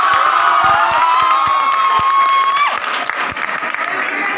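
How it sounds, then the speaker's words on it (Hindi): College audience at NSB college applauding first-year students: dense, steady clapping mixed with crowd cheers and shouts, with a sustained tone ringing over it before the applause thins toward the end. "फर्स्ट ईयर स्टूडेंट के लिए थोड़ा सा ताली"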